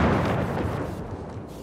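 Bombing zone explosions in the Rules of Survival battle royale game, a loud heavy boom with a rumbling tail that fades over under two seconds.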